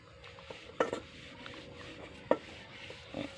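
Pots and pans clatter and bang around a home kitchen in a few sharp, scattered knocks, with a couple of louder clanks standing out over quieter rattling.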